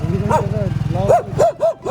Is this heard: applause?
no